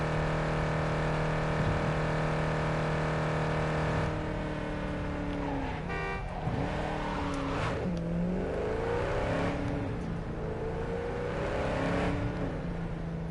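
A car at its top speed in Cyberpunk 2077 gives a steady, loud engine drone that runs without a break and rises and falls in pitch through the later part, with no talking over it.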